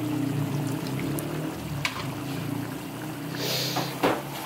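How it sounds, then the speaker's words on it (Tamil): Tamarind water poured into simmering spinach koothe in a home kitchen, a steady liquid trickle over low background hum, ending with a brief clatter, no talk. "ஓகே, நம்ம புளி கொஞ்சம் ஊற்றிக்க"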